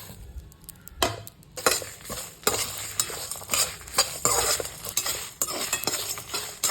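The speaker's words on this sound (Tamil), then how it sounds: "ஃபஸ்ட்டு வத்தல் போட்டிருக்கேன், கொஞ்சம் பொரிஞ்சிருச்சு" Sun-dried vathal fries in hot oil as it is stirred for a masala, a crackling sizzle mixed with repeated scraping and clinking of a utensil against the pan, close and lively.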